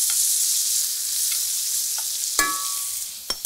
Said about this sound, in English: We are gonna go ahead and flip it, keeping that heat ripping hot.